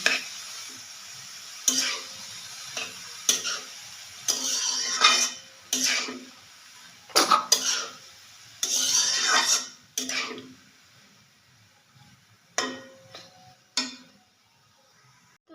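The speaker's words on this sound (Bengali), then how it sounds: "এবার দিয়ে দিব কুচানো পাতাকপি পাতাকপিটি দিয়ে ভালো করে মিশিয়ে নিতে হবে" Shredded cabbage with prawns is stirred in a pan, heard as repeated bursts of metal spatula scraping and clattering against the pan, separated by quieter gaps with a light sizzle.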